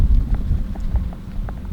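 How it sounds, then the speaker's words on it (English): Gusty wind buffets a microphone aboard a sailboat in windy, rainy weather, a loud rumbling low roar with irregular bursts over its short length. "It's been fairly windy and rainy lately."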